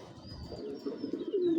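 A khaki female Giribaz pigeon, a big-headed bezi type, coos softly close by, a low murmuring call that swells and lingers toward the end, with faint higher chirps behind and no talk.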